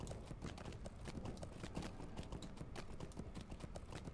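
Horse hooves clip-clopping at a quick trot in the video game LoTRO (Lord of the Rings Online), a dense, steady patter of close hoofbeats without a break.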